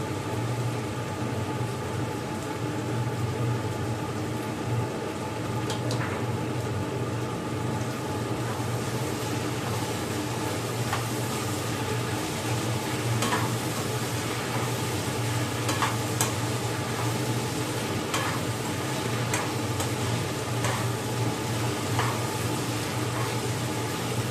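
Food sizzles and fries steadily in a pan on a home stove while pasta is prepared, with occasional stirring clinks and scrapes over a constant low hum, and no one speaks.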